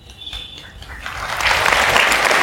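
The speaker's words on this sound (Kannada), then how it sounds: "ನೀವು ಯಾಕೆ ಚಪ್ಪಾಳೆ ತಟ್ಟಿದ್ರಿ ಮೊದಲನೇ ಸರಿ?" Audience applause at a motivational program, rising from sparse scattered claps into a fuller, steady round of clapping from the crowd.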